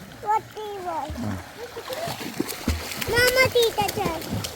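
Swimmers splash in a farmhouse swimming pool, with irregular nearby bursts of water sloshing through the whole stretch while children's voices call and chatter loudly over it.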